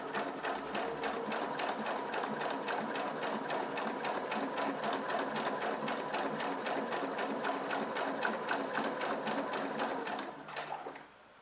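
A sewing machine stitches fabric in a slow, careful straight seam, its steady rapid needle chatter running close and continuous for several seconds before slowing and stopping near the end.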